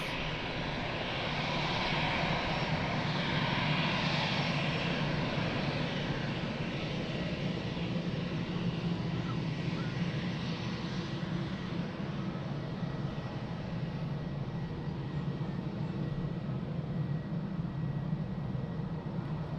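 An EasyJet airliner at Lisbon Airport produces a continuous, loud engine roar that holds steady and fairly close for the whole stretch, with no talk.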